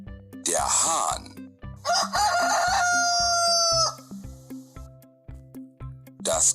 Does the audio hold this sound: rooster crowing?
yes